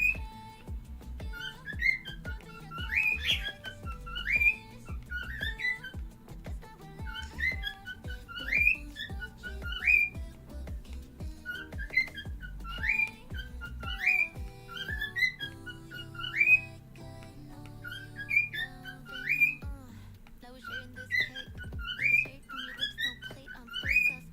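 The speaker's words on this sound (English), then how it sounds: "Bird sounds like a squeaky hamster wheel." A bird gives squeaky, hamster-wheel-like chirps in quick repeated bursts of three or four notes, clear and fairly close over a low steady background hum.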